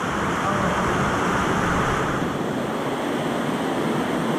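A waterfall at Palale in Barangay Diaro, Malinao, Albay, pouring as a steady, loud broadband rush that fills the whole scene without a break.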